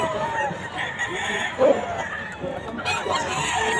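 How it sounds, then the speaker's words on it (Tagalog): Many chickens and roosters at the Bocaue pet market, with crowing and clucking rising over a busy background of crowd chatter and market noise. "Sobrang dami ng manok ngayon dito sa Bukawi."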